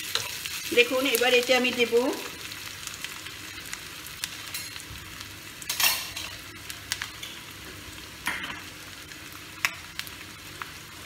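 Onions fry in a pan for a Bengali boal catfish kalia, a steady soft sizzle broken by scraping and clinking stirs, with a voice speaking briefly near the start.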